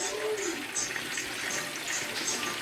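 Fries dropped into hot grease in a smaller pot, giving a steady, broad hissing sizzle with bubbling that runs throughout at moderate loudness, with no talk over it.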